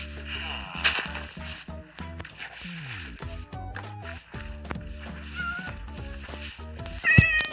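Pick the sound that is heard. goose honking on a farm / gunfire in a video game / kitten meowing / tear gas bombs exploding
kitten meowing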